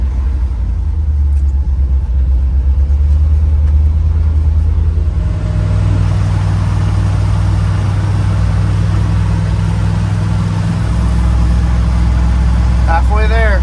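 Engine of a 1970 Chevy K10 pickup, parked for 30 years and now on its first drive, rumbles loud and steady throughout with shifting low tones as it moves, while people talk over it.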